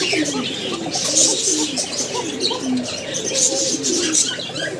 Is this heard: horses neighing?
no